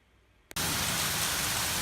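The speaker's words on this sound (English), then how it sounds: "I look outside and it's hailing like a big dog" Hail falling outside arrives abruptly after a quiet moment, becoming a dense, loud, continuous roar of pelting ice that fills the rest of the short stretch.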